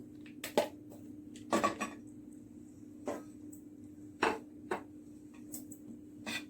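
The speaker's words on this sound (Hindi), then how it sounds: "ये चिक्की का गुड़ मैं अब ये पैन में डालती हूँ" Jaggery for sesame chikki being dropped into a pan, heard as a scattered series of faint knocks and clatters with short pauses between, close by and without any speech.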